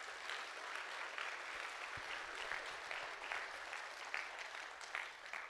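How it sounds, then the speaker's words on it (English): An audience at a college livestock final presentation claps in a sustained round of applause, many hands close and moderately loud, with a few sharper individual claps standing out. "Just a round of applause"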